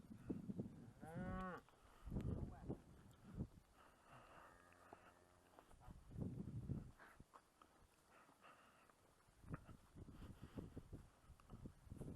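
Purebred cattle being moved home, several loud nearby moos at irregular intervals, one long drawn-out low call in the middle, with hoof steps and shuffling between them and no speech.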